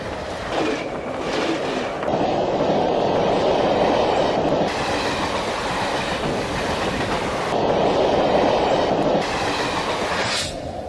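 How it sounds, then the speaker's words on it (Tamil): A train rumbles past with continuous clattering wheels on the track, loud and sustained throughout, with a brief high squeal near the end. "ட்ரெயின் வருதுடா"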